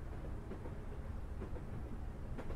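A passenger train in Train Simulator Classic runs toward London Liverpool Street, giving a low, steady rumble with soft rhythmic clicks from the wheels on the rails, fairly quiet and with no voices.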